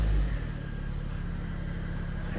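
A 2014-15 Toyota Corolla's engine catches with a brief louder burst, then settles into a steady, close, even idle rumble that continues without talk.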